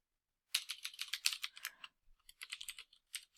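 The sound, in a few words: typing Python code on computer keyboard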